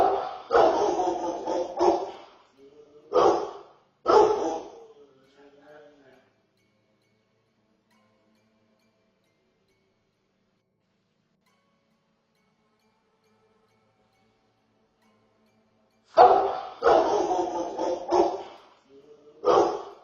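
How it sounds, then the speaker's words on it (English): A dog barking in clusters of sharp, close barks near the start and again after a long quiet gap, loud against an otherwise silent room. "after my dog starts to bark at the 4-second mark"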